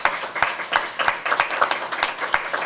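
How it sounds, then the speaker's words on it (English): A crowd claps steadily, a dense patter of many hands with sharper individual claps standing out, sustained throughout. "let's give our Ron Eagles a round of applause"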